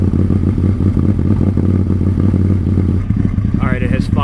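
A Ford Maverick idles with a custom homemade exhaust, giving a steady, loud, low rumble that runs throughout with a rough, pulsing burble; a faint whistle-like tone rises near the end.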